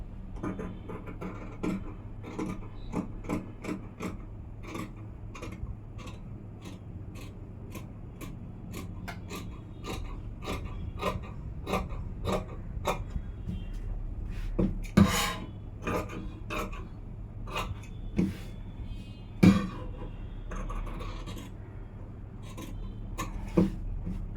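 Scissors snip through blouse fabric along a paper pattern, making a steady run of short, crisp cuts close by that grow slightly louder and sharper toward the end, with no talking.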